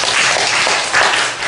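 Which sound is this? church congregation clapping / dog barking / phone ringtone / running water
church congregation clapping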